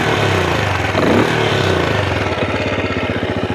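A Benelli Imperiale 400 single-cylinder motorcycle engine idles close by with a rough, pulsing thump, settling into a slower, steady beat toward the end as revs drop from about 2000 to 1500 rpm.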